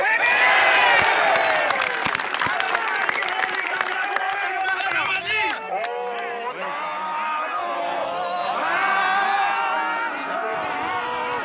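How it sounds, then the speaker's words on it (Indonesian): A large gathering of Pemuda Batak Bersatu members applauds and cheers outdoors, with a dense, loud wash of clapping, whoops and shouting voices. Amplified speech and a brief dip break in midway before the crowd noise swells again. "Tepuk tangan untuk PBB."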